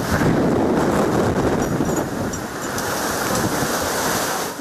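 Storm waves driven by strong wind during Typhoon Hato crash continuously onto the shore at Ma Wan village in Lei Yue Mun, a loud, dense roar of surf with heavy wind buffeting the microphone.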